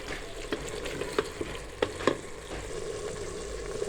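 Green peas are stirred into keema frying in a pot for aloo matar qeema, a steady close sizzle with intermittent scraping spoon strokes and soft knocks against the metal.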